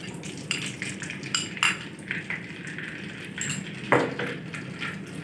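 Semolina is roasted in ghee in a pan for halwa, and a spoon scrapes and clinks against the metal in an irregular rhythm. The stirring stays close and moderately loud over a steady background hiss.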